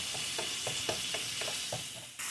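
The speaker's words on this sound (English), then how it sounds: "getting it stirred up here so that we can brown it throughout" Ground beef browns in a pan as a spatula scrapes and turns it in a quick regular rhythm over a soft, constant sizzle, ending with a brief hiss.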